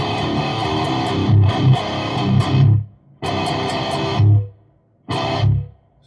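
Heavy distorted metal guitar from a Keith Merrow model tuned to drop C through a Line 6 Helix, loud chugging riffs in bursts separated by abrupt stops and short silences, with a touch of reverb.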